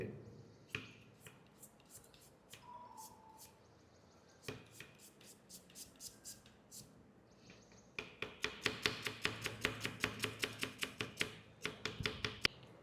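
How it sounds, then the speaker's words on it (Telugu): A knife finely slices carrot on a board for veg Manchurian. A few scattered taps come first, then a fast, even run of crisp, close chopping strokes fills the last few seconds. Nobody speaks. "క్యారెట్ కూడా సన్నగా కట్ చేసుకోవాలి"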